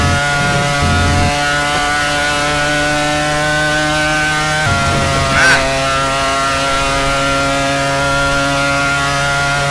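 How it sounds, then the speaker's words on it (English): Mercedes Ilmor race car engine at full power through Eau Rouge in the rFactor racing game, a loud steady high-pitched whine. Pitch dips briefly partway through, then holds constant to the end. "The full 920-ish horsepower out of the Mercedes Ilmor through Eau Rouge."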